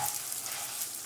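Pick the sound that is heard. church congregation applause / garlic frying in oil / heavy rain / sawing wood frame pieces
garlic frying in oil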